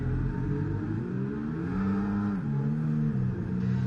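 Race cars in the F1 2023 video game at Monaco whine steadily with rising and falling engine pitch as they shift through gears, a continuous close-up engine drone with no voices over it.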